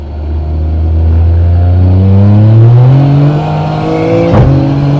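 A Toyota GR Yaris with a sequential gearbox accelerates hard in second gear, its engine note rising loud and steady from up close, with a brief sharp burst near the end.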